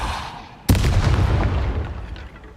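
A Depulso spell cast in the Hogwarts Legacy video game: a sudden loud blast-like burst hits partway in, then a rumbling roar slowly fades over the next couple of seconds.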